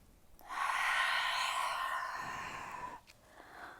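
A slow, deep breath during a yoga session, drawn in softly and then released as a long, airy exhale, close and quiet with no speech over it.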